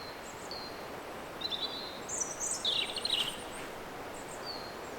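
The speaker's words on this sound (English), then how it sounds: "So quiet. All you can hear is the birds and water." Scattered bird calls and chirps ring out at a middle distance in quiet woodland beside water, over a steady broadband wash of flowing water, busiest in the middle.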